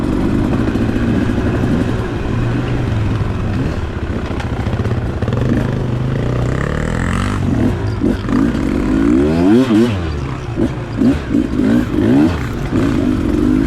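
Dirt bike engine under load while riding in first gear on an adventure trail ride, a steady loud rumble with revving swells and gear changes, another bike close ahead.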